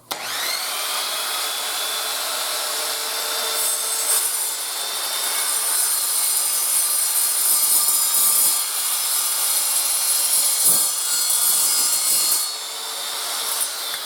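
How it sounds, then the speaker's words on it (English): A loud metal-cutting saw slicing through metal stock for a side table, a steady harsh grinding whine running the whole time with slight swells and a drop near the end, no voices. "All of these metal saws are loud."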